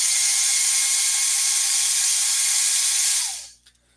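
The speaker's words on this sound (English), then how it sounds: "let me get the hair dryer" A hair dryer blows loud and steady at close range while drying stain on a craft piling, a broad rushing hiss that holds for about three seconds and then winds down as it is switched off.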